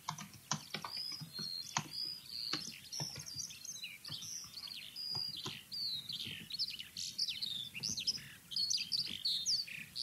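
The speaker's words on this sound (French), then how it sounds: "C'est la fauvette à tête noire." A Eurasian blackcap sings a lively, melodious run of bright warbling phrases, rising into a fluted crescendo, fairly close and continuous over faint background birdsong and light ambient noise.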